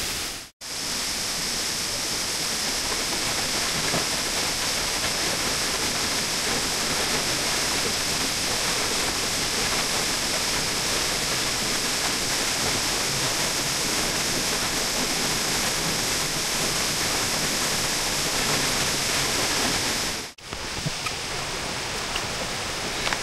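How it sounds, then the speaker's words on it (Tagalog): Lanzones waterfall in Laguna roars as a dense, steady rush of falling water, loud and close throughout with two brief dropouts, no voices. "Ito na ang huling falls natin,"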